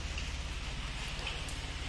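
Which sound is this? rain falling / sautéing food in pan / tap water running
rain falling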